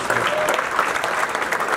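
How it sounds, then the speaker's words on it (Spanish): Church congregation applauds in a short, continuous wash of clapping with crowd murmur beneath. "Denle un aplauso a Cristo Jesús."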